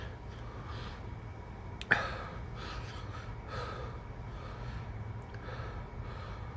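Heavy, steady breathing from a man recovering from the burn of two 7 Pot Primo chili pods, a Trinidad 7 Pot x Naga Morich cross, with one sharp gasp or snort near the start over a constant low hum.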